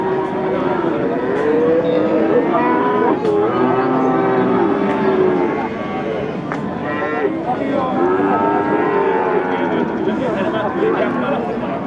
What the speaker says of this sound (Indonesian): Inilah deretan sapi-sapi tanggung.